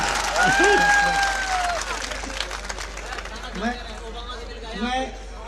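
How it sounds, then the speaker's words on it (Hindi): Audience applause at an Urdu comic mushaira on the theme of elections, a crowd clapping loudly near the start and fading into chatter while a voice talks over it. "एक बार जरा झूम के तालियां बजाइए"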